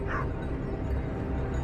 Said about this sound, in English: The sound of barking echoed from deep within the forest.